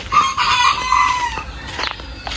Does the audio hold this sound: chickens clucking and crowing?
yes